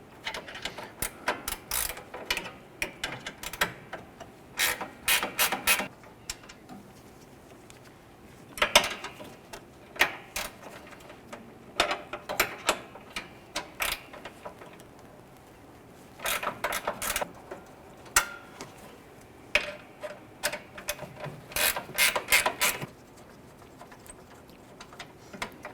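A ratchet loosens 10mm hood latch bolts on the radiator support of a 2012-2017 Toyota Camry: recurring runs of quick, light clicking come in clusters with pauses between them, moderately close against a quiet workshop background.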